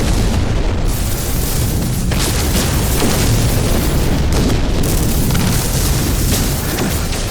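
Infra-knife ship weapon in No Man's Sky space combat, a dense, continuous barrage of booming blasts and bursts filling the whole stretch, loud and close with no talking.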